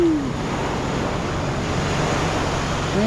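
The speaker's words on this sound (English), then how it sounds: "Some of these waves are hitting kind of hard though" Waves break on a Gulf of Mexico beach at Pass-A-Grille after Hurricane Idalia, a steady close roar of surf and churning water with wind buffeting the microphone and no voices.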